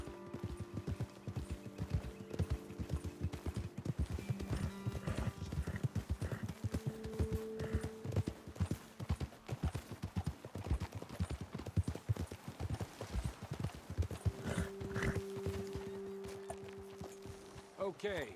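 Rhythmic clip-clop of horse hooves walking steadily on hard ground in the video game Red Dead Redemption 2, close by, with occasional tonal chimes and people talking over it.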